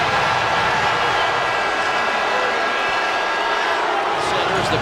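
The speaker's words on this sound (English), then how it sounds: "the crowd chanting Kobe" A basketball arena crowd at a Pacers versus Lakers game roars as a loud, dense, continuous wash of voices, with no distinct rhythm of a chant showing through.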